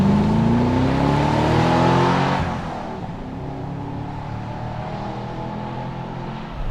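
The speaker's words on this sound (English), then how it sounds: "what is it about the red-blooded American male that we like V8 noise so much?" A Chevrolet Camaro SS V8 roars loudly at close range, its rising engine note peaking in the first couple of seconds, then easing off into a steady, lower drone as the car settles.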